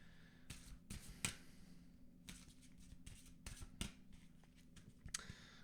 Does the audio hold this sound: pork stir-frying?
no